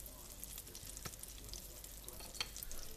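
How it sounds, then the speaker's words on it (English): Soft, steady sizzling of butter browning in a hot pan, with faint scrapes of a utensil stirring it. "So you just want to kind of stir it around and let that butter start to brown a little bit."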